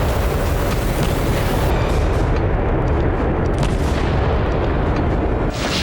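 Russian missile strikes hitting a residential area of Kharkiv, a continuous loud, heavy roar of blast and rumble with dense low booms throughout, no voices heard.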